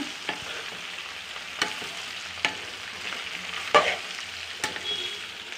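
Cluster bean fry is stirred in a pan over a low, steady sizzle, with sharp spatula scrapes landing roughly once a second, close and fairly quiet.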